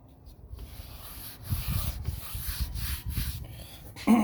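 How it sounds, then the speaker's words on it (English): Rust is scrubbed off truck brake rotors with a rough, rhythmic rubbing and scraping, close and fairly loud, in uneven strokes after a quiet start, ending with a brief sharper clatter. "I wanted to take the rust off first just to see if they're even worth turning"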